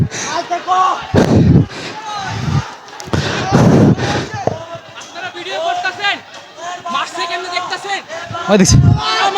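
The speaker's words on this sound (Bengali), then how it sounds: "ভাই শিক্ষার্থীরা এখন একটা সাউন্ড গ্রেনেড নিক্ষেপ করেছে।" A stun grenade goes off during a street clash between students and army near the Secretariat, heard as several heavy booming blasts over a crowd's restless shouting and chatter.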